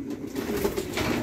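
Pigeons coo softly and continuously nearby, a low rolling murmur of two birds with faint background ambience.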